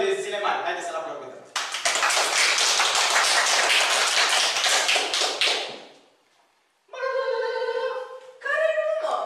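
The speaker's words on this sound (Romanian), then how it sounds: "Haideți să-l aplaudăm." An audience applauds a teacher's solo: dense, brisk clapping from many hands rises suddenly after voices, holds strong for about four seconds, then fades out, with voices returning afterward.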